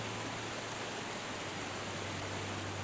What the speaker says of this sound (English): Let's check behind some of these waterfalls